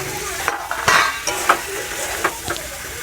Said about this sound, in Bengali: ভেজে রাখা ডাঁটা আলুগুলো দিয়ে দেবো।